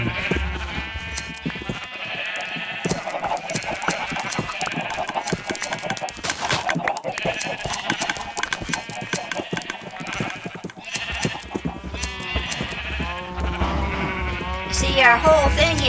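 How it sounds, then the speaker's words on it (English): Video game sheep bleat repeatedly while being sheared, their wavering cries overlapping and rising and falling over a busy, steady game backdrop, with a person talking over much of it. "Shearing these sheep."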